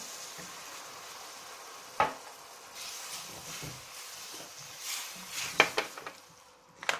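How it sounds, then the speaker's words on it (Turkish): Meat broth poured over Şehzade kebab in a hot pan, giving a soft hiss and sizzle with scattered clinks and scraping of utensils against the pan. "bir su bardağı etin suyu var üzerine döküyorum"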